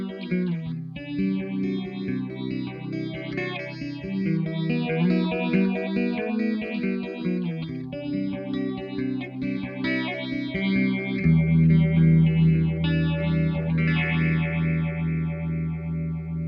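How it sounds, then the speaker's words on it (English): Guitar run through a Red Witch Moonphaser tremolo-phaser pedal, sustained chords swirling with a sweeping phase and pulsing volume that continues steadily throughout, moderately quiet and without any voices. "a tremor phase pedal. And it sounds like this."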